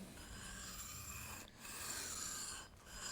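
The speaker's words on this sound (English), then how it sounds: "That's why I like this coarse 320 grit diamond hone." Long bent gouge rubbed back and forth on a coarse 320 grit diamond hone, making a soft, close, steady rasping with short pauses between strokes.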